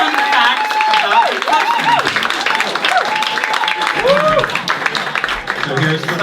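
Audience applause in a comedy show venue, a steady crowd clapping that runs throughout beneath someone speaking over it.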